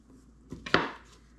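A knife slices through jackfruit in a home kitchen, a few quick cuts with one sharp, louder chop near the middle, fairly close and with no talking.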